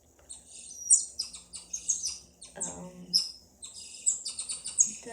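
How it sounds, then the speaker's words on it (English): A smart assistant plays a recorded tamarin monkey call: a series of high, bird-like chirps and whistles in short bursts, with a brief lower squawk partway through. "This is a tamarin monkey."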